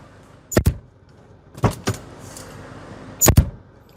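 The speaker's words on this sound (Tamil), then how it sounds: "டோருடைய தட் எஃபெக்ட் கேட்குறீங்களா?" Three solid door thuds from a 2020 Hyundai Creta SX diesel, heard close by: a pair of slams in quick succession, a third a moment later, then a final double knock, with quiet pauses in between.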